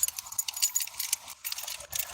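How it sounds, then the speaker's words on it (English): Car keys jangle and clink close up, a bright metallic rattle in short bursts across a couple of seconds, with no voices. "I did find my car keys."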